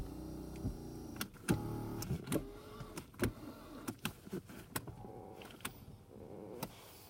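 An electric seat track motor in a Jaguar X-Type runs in short bursts, quiet whirring interrupted by sharp clicks and clunks at irregular intervals, close up.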